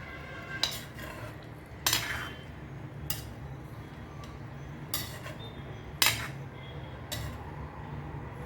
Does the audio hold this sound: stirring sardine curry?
yes